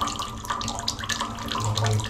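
Water flows down through a PVC pipe, a steady rushing, splashing stream that holds at an even level throughout with no voices over it.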